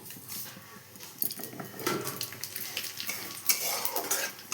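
Cinnamon, cardamom and bay leaf frying in hot oil in a pan after eggs were fried, with a steady close sizzle and repeated scraping and stirring clinks of a utensil against the metal.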